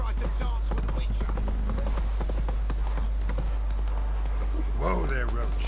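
Hooves of Roach, the horse in The Witcher 3, clip-clopping in a steady rhythm beneath continuous dialogue, with a brief horse snort or whinny near the end.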